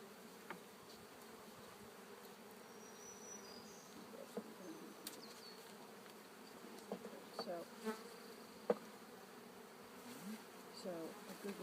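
Honeybees buzz steadily in a continuous drone throughout a beehive inspection of nuc colonies on a farm apiary, with a few brief louder passes of bees flying close.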